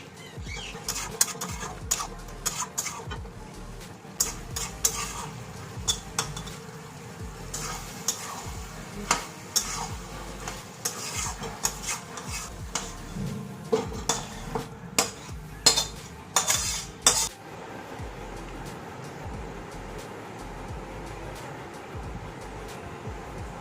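Food cooking in a pan is stirred steadily with a utensil, giving repeated scraping clinks over a constant low sizzle that runs close and fairly loud until it eases near the end, with no voices.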